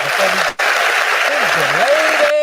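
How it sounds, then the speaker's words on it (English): Audience applause for a radio show, a steady wash of clapping throughout with a brief dropout near the start and a voice faintly over it. "I feel y'all clapping."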